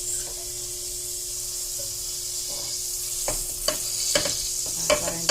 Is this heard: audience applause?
no